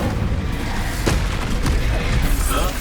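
Incendio fire spell blasts in Hogwarts Legacy combat, a couple of sharp bursts rising out of a dense, roaring wash of battle noise.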